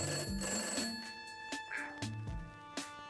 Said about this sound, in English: There's a dial tone.